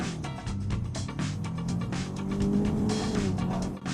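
An abandoned car is driven out of snow, its engine revving hard and unevenly while the tires squeal and spin, with the loud, close strain swelling midway and easing off at the end.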